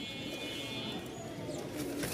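Giribaz pigeons cooing in a pigeon loft, soft continuous coos with faint chirps and light background voices.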